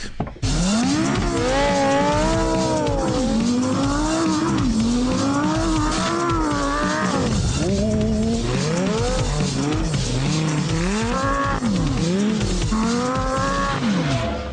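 A Lamborghini Gallardo LP560-4 driven hard on snow with traction control off, its V10 engine revving up and down in loud, wavering surges with tire noise for the whole stretch, no talk.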